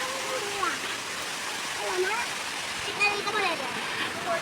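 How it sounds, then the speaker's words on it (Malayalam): A small stream in Kerala flows past a house, a continuous rushing burble of water with people talking over it. "ഈ ഒരു ചെറിയ തോട് പോലത്തെ അല്ലേ"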